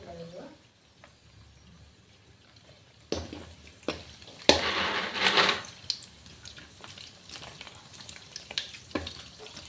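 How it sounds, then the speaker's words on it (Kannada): Puri dough frying in hot oil in a home kitchen gives a soft, steady sizzle that bursts louder for a moment when more dough goes in, then crackles on quietly, with speech over it. "ಪೂರ ಚೆನ್ನಾಗಿ ಫ್ರೈ ಮಾಡ್ಕೊಂಡು"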